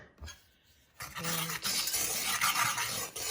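Sugar and flour being stirred together in a pot for a coconut cream pie, a close, soft scraping and rustling that starts after a brief quiet moment and keeps going steadily.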